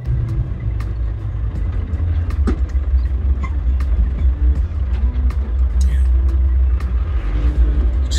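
A 1994 Land Rover Defender drives along with a steady, heavy low engine rumble and road drone, punctuated by occasional small knocks and rattles from the cabin, continuous and close for the whole stretch.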